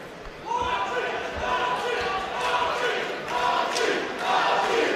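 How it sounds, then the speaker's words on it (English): A boxing crowd at a WBO Global title bout roars and shouts encouragement, a sustained loud wash of voices and yells with a commentator talking over it. "the crowd here trying to spur Sharp on"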